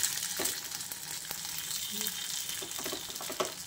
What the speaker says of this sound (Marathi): तर हे पहा आपण हे अशा प्रकारे याचे अप्पे टाकून घेणार आहेत।